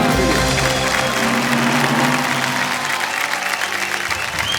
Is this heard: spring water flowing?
no